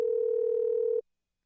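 A telephone dial tone plays while a radio talk-show host calls a guest. It is a single steady, clear tone lasting about a second that then cuts off abruptly into silence.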